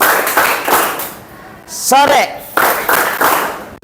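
A ninth-grade class claps hands together in short rhythmic bursts, close and sharp, broken in the middle by a moment of a voice speaking before the group claps again.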